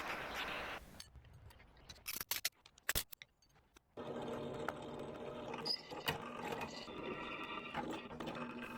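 A MAP gas torch heats scrap steel with a steady, loud roaring hiss through the second half, preceded by scattered clanks and clicks.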